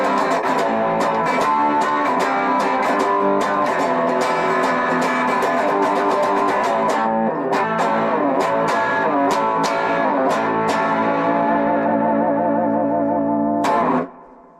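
Harley Benton HB-35 Plus semi-hollow electric guitar played with a punk rock tone, loud distorted chords strummed in a driving rhythm that ring out and then stop abruptly near the end, without any talk.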